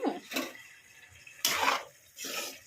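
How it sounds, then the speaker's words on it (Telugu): Water is poured in three short splashing bursts into a pan of bitter gourd, close and fairly faint, with quiet gaps between the pours. "వాటర్ వేసి వాటర్లోనే బాయిల్ చేస్తాను"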